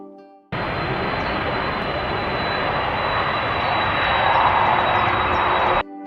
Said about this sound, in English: Once an aircraft starts an approach, it must touch down.